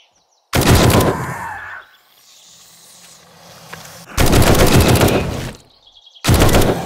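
Automatic gunfire from the survival zombie game 7 Days To Die, with three loud, close bursts of rapid shots separated by short pauses and quieter game ambience between them.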